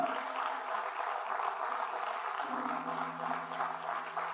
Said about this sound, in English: Let's give those young people another rousing applause